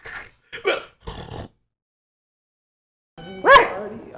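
A woman imitates a dog with one loud, sharp bark near the end, after a few short bursts of voice and a long silent gap.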